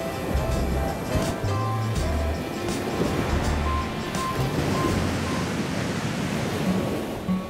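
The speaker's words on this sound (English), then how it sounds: "Big rocks, crashing waves, a spectacular beach" Ocean waves crash steadily against big rocks at an Oahu beach, a continuous loud roar of surf with wind noise and no break in the wash.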